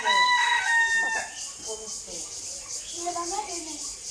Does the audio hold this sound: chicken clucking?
yes